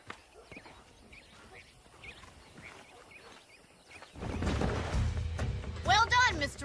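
Horse hooves clip-clop in the Western video game Red Dead Redemption, a light regular patter early on, then louder rumbling movement with a voice speaking over it near the end.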